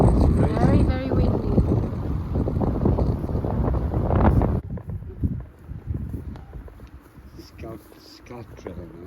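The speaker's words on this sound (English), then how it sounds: "Very, very windy." Strong wind buffets the microphone at an outdoor vintage market in Modica, Sicily, with a loud, steady low roar that drops off partway through, leaving gusty rumbling with scattered voices nearby.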